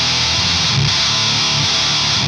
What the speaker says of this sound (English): having all the distortion turned all the way back. Essentially using this thing as a boost.